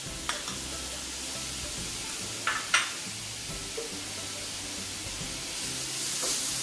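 Grated carrot sautés in ghee with a constant close sizzle, with a few sharp stirring scrapes against the pan and no voices.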